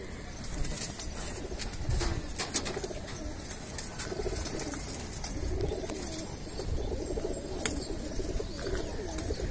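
Pet pigeons kept in a loft coo in low, rolling murmurs, several birds overlapping with occasional wing flaps and light shuffling, steady and close with no voices.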